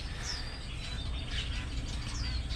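Collared babblers in an aviary give a few faint high chirps and short whistled calls over a low steady background hum.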